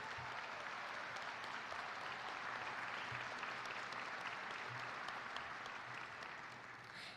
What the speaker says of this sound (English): can we give our graduates the first of what I hope to be many rounds of applause?